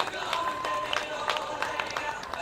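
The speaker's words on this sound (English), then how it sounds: "let's have a big round of applause for Terry, the Texel" Live audience applauding and cheering at an outdoor sheep show during a Christchurch food festival, welcoming a Texel ram onstage; a dense, steady wash of clapping with scattered sharper claps throughout.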